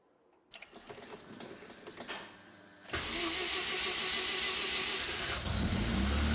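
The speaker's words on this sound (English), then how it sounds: "So now it's time for test drive." A Mazda RX7 with a newly installed rebuilt gearbox cranks and fires up, rising into a steady, loud engine run that fills the rest of the stretch with no talking.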